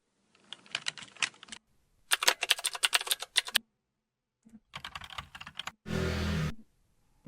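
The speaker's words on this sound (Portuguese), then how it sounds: "Vamos pesquisar agora um de teclado." Computer keyboard typing sound effect: several separate bursts of rapid key clicks with short pauses between them, then a denser, sustained clattering burst near the end, close and clear with no voices.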